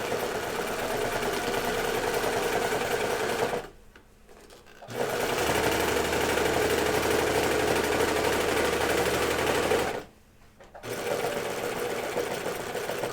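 A sewing machine runs a chain stitch along a seam on a pair of pants, whirring steadily and close up in two long bursts with a short pause between them, alone without talk.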